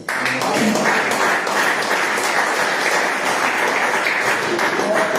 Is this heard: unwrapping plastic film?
no